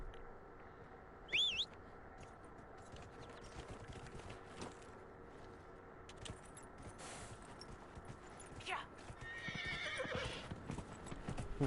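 A horse in the video game Dragon Age Inquisition gives a brief whinny early on, followed by a steady run of soft clip-clopping hooves under ambient game sound, with a second neigh-like call near the end.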